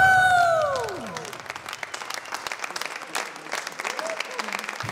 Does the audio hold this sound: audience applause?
yes